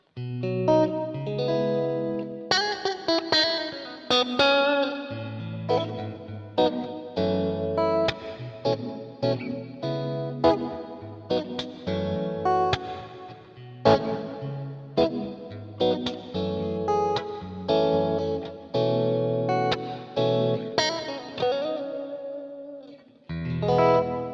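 Electric guitar riffing through a heavily driven 6L6 tube amp stack, thick and crunchy with chorus-like shimmer, continuous choppy chords and notes played alone without talk.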